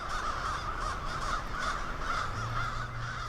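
Crows caw at a nightly roost, many birds calling over one another in a dense, continuous chorus, with a low background hum running underneath.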